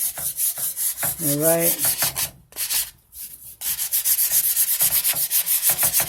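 Wooden trim is sanded by hand in quick, rhythmic back-and-forth strokes, loud and close, with a short pause in the middle, then steady rubbing again. Someone says a brief word partway through.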